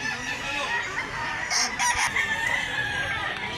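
Rooster crowing at a farm in Mantalungon, Cebu: one crow at moderate distance, rising briefly over a steady background hiss.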